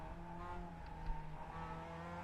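A Mazda MX5 Cup race car engine in iRacing at Laguna Seca drones steadily at high revs, a continuous near buzzing hum with no talk.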